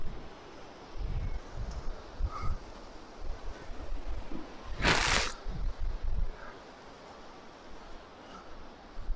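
Gusty wind buffets the microphone in low rumbling bursts in an old graveyard, with one sharp hissing blast in the middle and quieter gusts around it.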